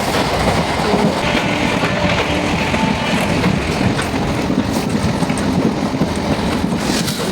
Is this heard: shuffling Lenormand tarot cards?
no